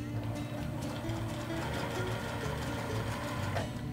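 Sewing machine stitching jelly roll quilt strips together in a long chain, a steady close mechanical whir running throughout with small clicks and no talking.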